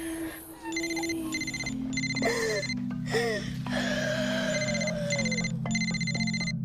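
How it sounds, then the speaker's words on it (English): A telephone rings in repeated bursts of bright electronic trilling, steady and fairly loud, over a low sustained drone with sliding wailing tones in between. "Pick up the phone, Taylor."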